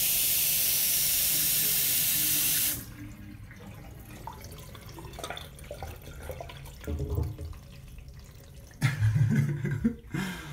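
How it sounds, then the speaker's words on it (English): Water rushing loudly down a shared main drain in a Tokyo home, fed by the sink, toilet and tub, a steady hiss for nearly three seconds before it cuts to quieter gurgling and trickling with a few thumps near the end. "when you run the sink or the toilet or the tub, it goes down there."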